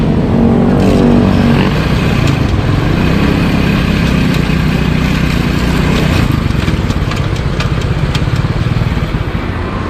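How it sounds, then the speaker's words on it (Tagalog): A motorcycle engine runs steadily close by in fourth gear, a continuous idling drone with light mechanical clatter and no voices. "i-start ko yung makina tapos ilagay mo sa fourth gear"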